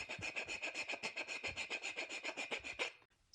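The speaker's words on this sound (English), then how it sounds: "One, just pick up what's called a rasp from Harbor Freight." A cheap hand rasp files a workpiece in fast, even back-and-forth strokes, a dry scraping rasp repeated about a dozen times close up before stopping abruptly.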